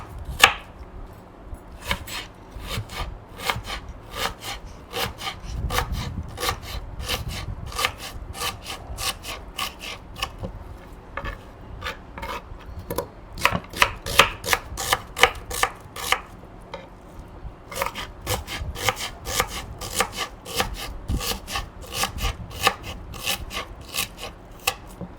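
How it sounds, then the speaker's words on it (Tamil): A knife chops onions finely on a wooden board, with rapid, crisp rhythmic strikes repeating steadily and close up, in short bursts with brief pauses between runs. "வெங்காயம் இப்போ இதை பொடிசாக கட் பண்ணி எடுத்துக்கலாம் நம்ம."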